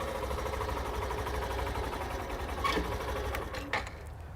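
A Hero Glamour 125 BS6 motorcycle idles nearby with a steady, even mechanical ticking putter, fairly quiet and unbroken, with a couple of brief clicks near the end.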